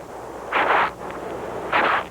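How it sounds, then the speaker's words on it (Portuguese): Two loud, harsh rasping bursts from a flightless grasshopper in Africa, each lasting under half a second, separated by a short gap over a low background rumble. "um gafanhoto que não voa"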